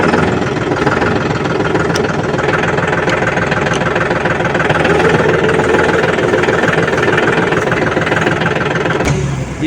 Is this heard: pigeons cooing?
no